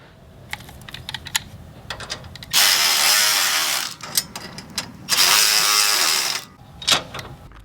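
Ratchet wrench tightening nuts on a blocker plate while a GrassFlap kit is installed on a Bradley stand-on mower: clicking strokes between loud, sustained whirring bursts, close and clear.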